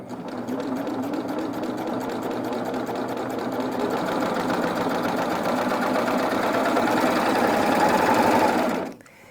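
Serger sewing machine ruffling stiff fabric, a fast steady mechanical chatter running continuously for several seconds before stopping abruptly at the end.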